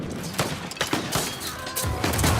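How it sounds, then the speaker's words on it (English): Cannon bombardment during a Europa Universalis 5 battle: repeated sharp booming impacts in a dense, irregular volley over a continuous noisy battle din, fairly loud throughout. "They got a lot of cannons on bombard at the start here."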